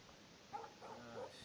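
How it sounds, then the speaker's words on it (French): A dog barks a few times in the video game Life Is Strange, with short, moderately loud yips spread across a quiet background. "No barking."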